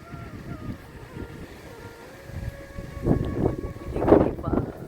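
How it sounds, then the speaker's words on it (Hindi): Strong, gusting outdoor wind buffets the microphone in uneven bursts, growing louder toward the end, under a cloudy sky before rain. "बहुत तेज़ अभी हवा चल रही थी, रुक रुक के चल रही है लेकिन चल रही है।"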